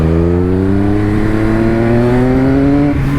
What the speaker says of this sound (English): This bike's so freaking loud now,